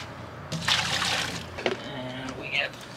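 Water poured into a steaming pot along with beer and vinegar for Maryland-style blue crabs, a fairly close splashing trickle that comes in short bursts with a speaking voice over it.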